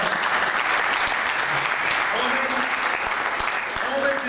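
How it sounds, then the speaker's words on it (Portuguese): A church congregation applauds together, steady dense clapping that fills the space and holds throughout, with voices mixed in beneath it. "Vamos aplaudir o Senhor pela vida do Marcos"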